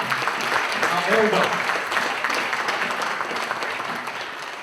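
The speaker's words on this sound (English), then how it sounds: "Give him a round of applause." An audience claps in a broad wash of applause while a voice speaks briefly over it, the clapping fading slightly toward the end.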